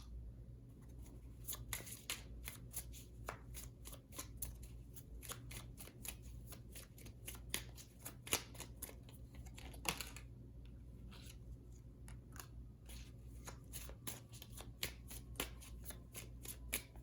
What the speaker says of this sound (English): And I'm also going to pull from tarot.